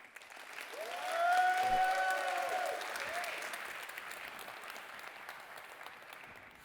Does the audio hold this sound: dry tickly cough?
no